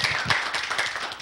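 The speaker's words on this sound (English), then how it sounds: "give him a little applause here" Brief burst of audience clapping at a school robotics event, a short scatter of hand claps filling the room for about a second with no talk over it.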